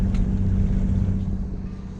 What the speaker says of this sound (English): I'm gonna continue using the motor for a while more